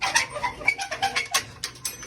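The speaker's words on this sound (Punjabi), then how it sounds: "ਤੇ ਕਬੂਤਰ ਦਿੱਤੇ ਸਾਰੇ ਛੱਡ ਇਧਰਲੇ ਖੁੱਡੇ ਦੇ" Pigeons in a loft make repeated soft coos and rustling calls in quick succession, close by and moderately loud, with no speech.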